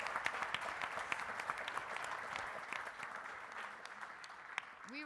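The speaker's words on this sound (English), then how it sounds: "Please join me in a round of applause for them." Live audience applauding panelists at a cybersecurity session, steady dense clapping that holds throughout at moderate level with no voices over it.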